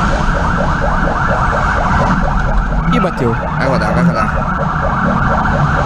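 Police car sirens wail continuously and loudly during a chase through city streets, with rapid cycling tones layered over heavy road and engine noise while someone speaks excitedly.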